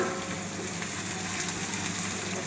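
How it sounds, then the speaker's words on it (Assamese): Onions fry in oil with black cumin and dried red chillies in a wok, a close, dense, continuous sizzle that holds steady throughout. "মই পিঁয়াজখিনি ভাজিম"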